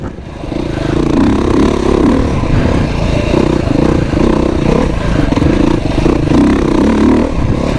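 Beta RR dirt bike ridden along a trail, its engine droning loud and close throughout with rising revs and faint mechanical clatter.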